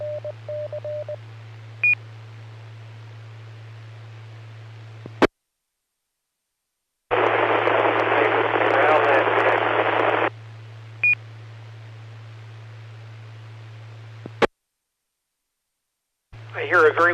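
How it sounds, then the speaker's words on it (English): Amateur radio net reception carries a steady low hum, a few short beeps, and a loud burst of hissing static where a very weak station tries to break through. Brief dead-silent gaps interrupt the hiss. "I hear a very weak station,"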